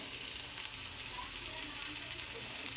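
Cauliflower koftas dropped into hot oil on a low gas flame, giving a steady close hiss of sizzling and frying with soft bubbling and no talk.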